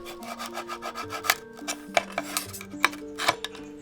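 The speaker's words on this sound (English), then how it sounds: "But first, Sudhammal cuts it down." A handmade metal mirror being cut down by hand, producing rapid repeated close rasping strokes with bright metallic ringing tones, a busy uneven rhythm without speech.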